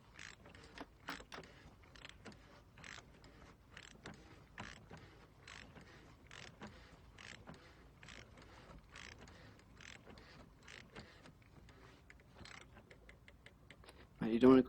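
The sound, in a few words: tightening oil filter housing with a ratchet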